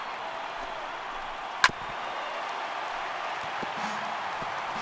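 A sold-out crowd in the Los Angeles Dodgers' stadium in MLB The Show 18 makes a faint, steady background roar. One sharp clap-like crack stands out briefly, and the murmur otherwise stays even and distant.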